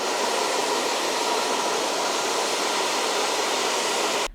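A heat tool blows steadily and loudly, warming the adhesive tape on the backing of tank grips before they are applied, a continuous rushing hiss that cuts off abruptly at the end.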